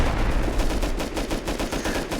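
AK rifle gunfire in the Rust video game, rapid bursts of automatic shots in a fast regular rhythm that continue throughout, with no talking.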